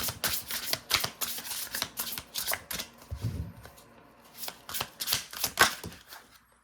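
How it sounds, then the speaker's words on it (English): Tarot cards shuffled and drawn during a reading, a quick run of crisp riffling flicks and soft slaps in close bursts, with a brief low thump midway and no talking. "I'm going to draw one more card."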